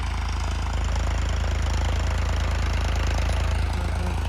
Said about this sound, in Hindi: अब आ गया ट्रैक्टर, वहाँ से घूम फिर कर अब आ रहा है